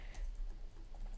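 Quiet, rapid keystrokes on a computer keyboard while searching for a micro cement texture during bathroom 3D modelling work, a soft close clatter of several taps alone with no talk.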